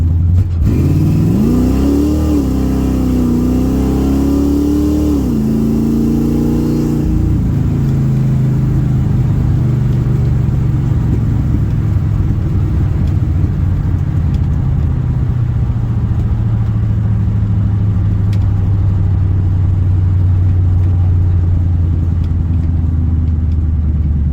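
A 1971 C20 truck engine revs hard in passing gear, its loud, close roar climbing in pitch for several seconds before a shift drops it into a steady, heavy cruising drone.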